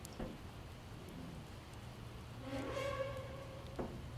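Rain falls in the zombie survival video game Project Zomboid, a faint steady patter with a brief tonal game sound partway through.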